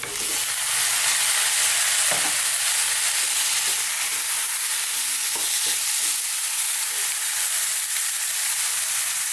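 Onions and spices for beef curry sizzle steadily in a hot pan, a loud continuous frying hiss with occasional soft scrapes as they are stirred, no voices.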